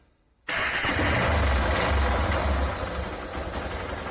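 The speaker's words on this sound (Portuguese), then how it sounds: "Vou dar partida nela." Honda Titan 150 motorcycle, which has a strange engine noise, starting abruptly after a moment of near silence and then settling into a steady, loud, close idle.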